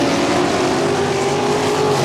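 A pack of 360 sprint cars races at Ohsweken Speedway, their engines blending into a loud, continuous roar close by with no break.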